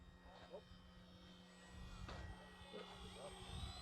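An old FMS Cub RC plane flies over water with a steady, thin electric motor whine and tonal buzz, moderately distant, with faint voices in the background.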